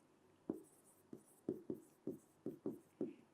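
Marker or chalk writing on a board during a biology lesson, a run of about ten quiet taps and short strokes in an irregular rhythm, close and faint with no talk.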